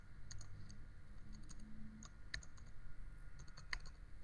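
A computer keyboard is typed on in quick, irregular bursts of light clicks against a quiet room background, with a few sharper keystrokes standing out.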